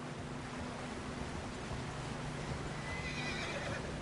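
In Red Dead Redemption 2, a horse whinnies near the end of a stretch of steady outdoor noise near a river, the high neigh rising above the constant wash.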